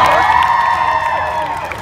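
Loud crowd cheering and whooping at the Summer in the City Awards 2016 for a winner, a dense roar of voices that eases slightly toward the end.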